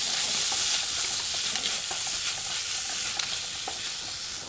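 Asafoetida and tomatoes sautéing in a pan for tomato coriander chutney give a continuous broad sizzle with faint intermittent spatula ticks, steady and close, with no voices.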